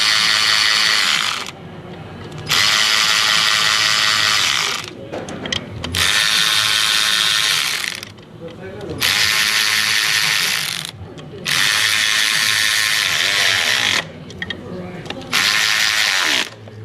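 A quarter-inch ratchet working on the oil filter and cooler housing of a 2015 Jeep 3.6, loud rapid clicking in several bursts separated by short pauses, close up.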